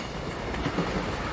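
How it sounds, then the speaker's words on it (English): A train moving along the track, heard as a steady, loud rumble and rattle of rolling cars with no break, close and with no voices. "There's the train again."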